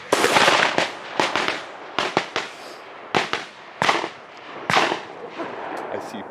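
Shotgun blasts at released quail during a tower shoot, a rapid volley of sharp outdoor bangs, several close together, some louder and nearer than others, with brief gaps between shots.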